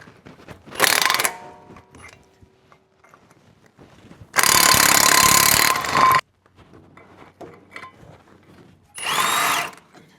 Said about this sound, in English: let's go ahead and take off these caliper bracket bolts